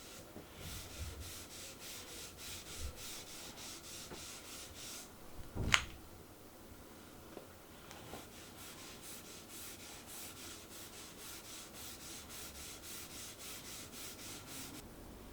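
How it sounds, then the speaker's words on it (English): A lint-free cloth rubs a wax oil finish onto quarter-sawn oak furniture in quiet, repeated soft strokes, faint and close, with one brief sharper squeak partway through. "I used a lint-free cloth to apply 2 thin coats of Gilboy's wax oil finish."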